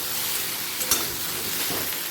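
Potatoes and taro frying and being stirred in a pan give a steady, close sizzle with a brief clatter of stirring near the middle. No one speaks.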